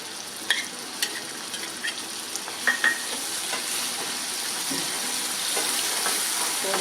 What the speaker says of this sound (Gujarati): થોડીક વાર આ ડુંગળી આપણે સાતળવાની છે.